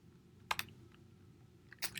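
Short bursts of computer keyboard typing as a build command is entered in a terminal: two quick clusters of key clicks, close and fairly quiet, over a low steady background hum, with no talking.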